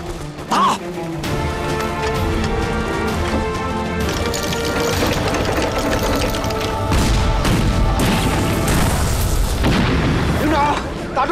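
Artillery cannon firing in a wartime battle scene, heavy booming blasts and crashing explosions repeating over a dense rumbling barrage, loud throughout, with shouted voices mixed in.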